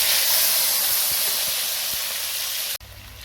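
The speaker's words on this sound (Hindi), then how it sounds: "ज़ीरे को हल्का सा फ्राई कर और साथ ही मैं इसके आलू" Cumin seeds and potatoes fry in hot cooking oil, giving a loud, steady, close hiss of sizzling that holds evenly for nearly three seconds before cutting off abruptly.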